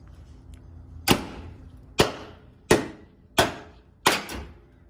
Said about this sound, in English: can you hit it with a hammer?